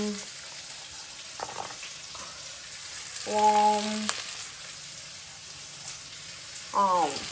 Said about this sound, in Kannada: ಈಗ ಚೆನ್ನಾಗಿ ಫ್ರೈ ಮಾಡ್ಕೊತೀನಿ.